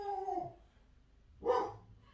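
A house dog barks at package deliveries: a brief whining tone at the start, then a single sharp, fairly close bark that fades quickly, with no talking.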